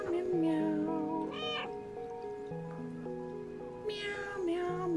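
A person imitates a cat meowing, giving a string of drawn-out, tuneful meows in a steady repeated sequence, close and clear with faint background noise.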